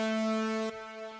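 A plain Serum synth saw wave with no effects plays a steady sustained tone with strong even harmonics, ending sharply partway through and leaving a softer held remainder.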